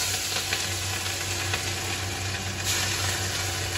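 Ground chili sizzles steadily in hot oil in an iron wok, a loud, continuous hiss with no voices over it.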